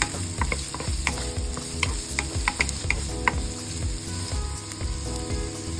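Onions and garlic saute in hot oil in a pan for beef pares. A loud, close sizzle runs steadily throughout, broken by a quick rhythm of spatula scrapes and stirring knocks, and nobody speaks.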